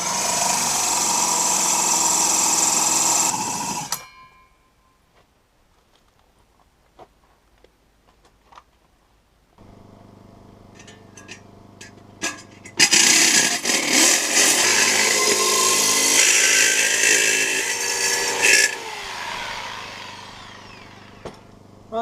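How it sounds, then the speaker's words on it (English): A jigsaw fitted with a wood blade cuts a drain hole for a sink in a bathroom build: a loud buzzing cut at the start, a pause with scattered small knocks, then a longer steady rasping cut that runs to the end. "it turned out jigsaw with actually a wood blade was my best bet"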